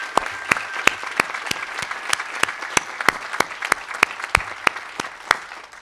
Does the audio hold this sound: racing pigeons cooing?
no